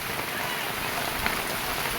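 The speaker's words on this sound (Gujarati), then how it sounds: "પાણી નીકળે એવો વરસાદ હવે ચાલુ થઈ ગયો છે" Heavy rain pours steadily, a dense, loud hiss of drops on surfaces that holds without a break throughout.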